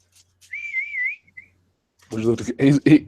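A single wavering whistle calling a dog sounds for about a second, followed after a pause by a voice speaking briefly.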